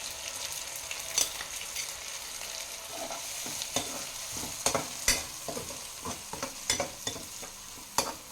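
Tomato puree frying in a pan for pasta, a soft continuous sizzle broken by irregular scraping knocks of a spoon stirring against the pan, close and fairly quiet, with no voices.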